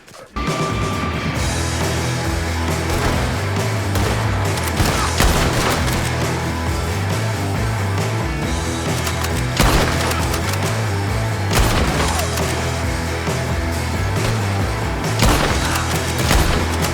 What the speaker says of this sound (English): Yeah, he's shooting.